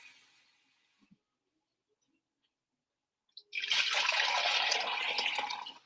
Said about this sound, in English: we're going to fill it with 4 cups of water